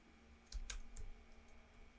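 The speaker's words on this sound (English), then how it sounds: "Control N on your keyboard to start a new composition." A computer keyboard shortcut pressed for a new composition: a few quick, quiet key clicks close by, two or three taps in a short burst followed by fainter ticks, with no talking.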